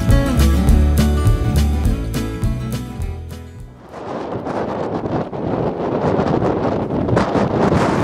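Music plays for a few seconds, then gives way to a steady, rushing wind roaring close against the microphone in cold, damp Scottish Highlands weather.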